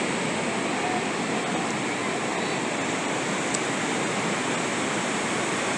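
Steady roar of surf breaking on Playa Negra, a black-sand beach at Cahuita on Costa Rica's Caribbean coast, a continuous loud wash of waves with no voices.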